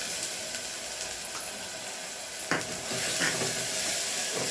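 Ginger garlic paste dropped into a hot pan for a cabbage and moong dal curry, a bright sustained sizzle with a sharp burst of frying and stirring scrapes partway through, close and steady.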